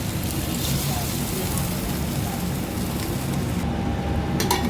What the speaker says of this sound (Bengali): তারপর আমি চালটাকে ভালো করে ভেজে নেব।